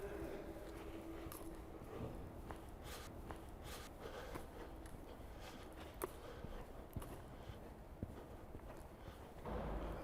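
Hooves of a horse during a riding lesson thud softly and irregularly on an arena surface, with occasional sharper clops and faint shuffling, quiet and fairly distant throughout.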